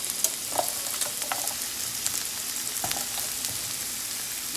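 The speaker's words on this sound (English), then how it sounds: "And now we're gonna add our onions." Chopped onions for steak gravy fry steadily in a hot pan, a continuous close sizzle with scattered crackles and pops throughout, no talking.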